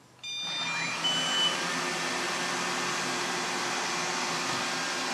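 An OKP K5 robot vacuum cleaner runs near stairs, giving a steady close whir with a brief beep as it starts, then a constant airy hum with no talk.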